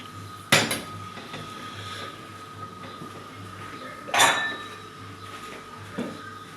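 Metal lid set onto a pot of fava beans in boiling water on a home stove, making a few sharp clanks and clinks against the rim, separated by quiet kitchen hum.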